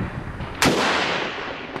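A single sharp pistol shot rings out at an outdoor shooting range, the title naming a Sig P220 Elite and a Staccato, with the report decaying into a long, loud reverberant tail.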